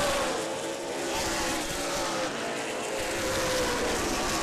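Race cars roar continuously around the Angola Motorsport Speedway track during a 100-lap feature, with a dense, steady engine drone heard from the grandstand and faint commentary underneath.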